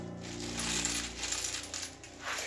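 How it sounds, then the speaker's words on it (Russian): Soviet-era coins clink and rattle against one another in a container just emptied of red water, a busy close metallic jingle that rises and falls in short bursts with no voices. "И здесь и вправду какие-то монеты"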